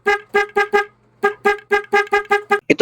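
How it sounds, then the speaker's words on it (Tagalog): A motorcycle horn wired through a 4-pin relay blares in a series of short, loud, evenly spaced honks, four quick beeps, a pause, then a longer run of repeated toots, heard up close with no talking. "sound check ng horn na with relay mga bossing"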